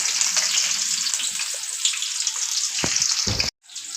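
Onions sizzle steadily in a hot pan, a bright continuous frying hiss with a couple of stirring knocks before a brief cut and the sizzling resumes.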